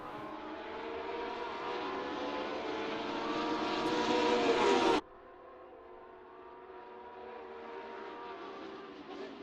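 Porsche race car engines in the Assetto Corsa racing game roar together at a standing start, a loud rising drone that cuts off abruptly to a quieter, steady engine hum.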